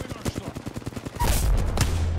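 Gunfire in the video game Apex Legends: a rapid string of sharp shots, then a louder, denser burst of fire near the end, close and punchy with no talk.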